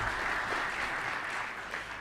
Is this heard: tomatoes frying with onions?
no